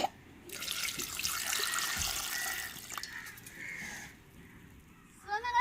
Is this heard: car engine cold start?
no